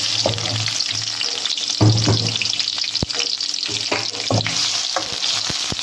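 Sliced big onions frying in oil in a pan for a gravy, giving a steady, close sizzle broken by a few sharper spatula scrapes and stirring clatters.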